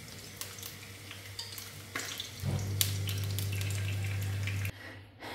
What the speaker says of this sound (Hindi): अब इसके साथ हम एक अंडा फ्राई कर लेंगे।